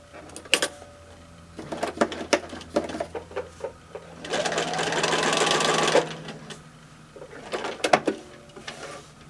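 A sewing machine stitches a button onto fabric in several bursts: short rattling runs, a longer continuous whirring stretch of about two seconds, then another brief burst, with quiet handling clicks between them.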